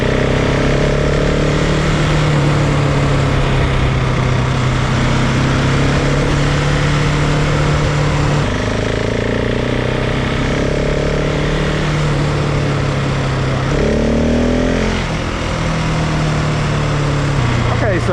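Single-cylinder engine of a 2026 KTM 690 Enduro R motorcycle in second and third gear, revved between about 3,500 and 4,500 RPM and then cruising off throttle. A loud, steady engine drone with pitch swings runs throughout, close to the rider.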